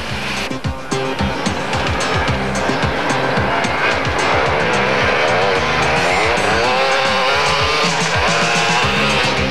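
Loud engines revving and roaring as off-road 4x4s and motorbikes drive hard, with rising and falling motor pitch and some tire noise, no talking.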